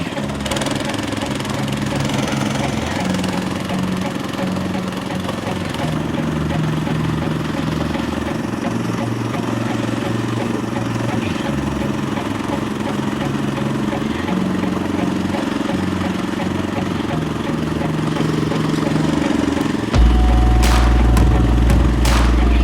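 A walk-behind tractor's engine runs steadily while being driven, a continuous loud mechanical drone that grows heavier and louder near the end.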